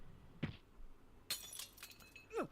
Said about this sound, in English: I heard the sound of shattering glass and the impact stopped.